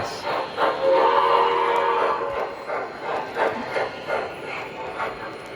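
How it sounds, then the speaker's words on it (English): O gauge model trains rumble and clatter along the track with rhythmic clicks of wheels over rail joints, steady and close. "I'm going to go ahead and stop these two trains."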